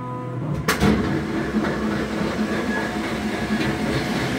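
A Treif Puma 700 EB portion slicer starting its cutting cycle: a sharp clunk as it engages, then a continuous mechanical rumble and whir with faint tonal hum, running steadily nearby.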